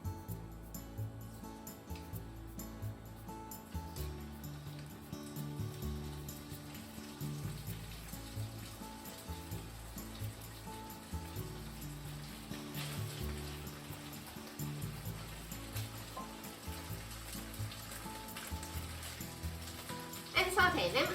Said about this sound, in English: so let's put the chicken